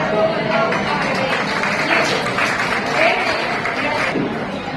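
Audience clapping for award-winning students at a school annual day and farewell ceremony; steady, fairly loud applause that holds for several seconds before tapering off.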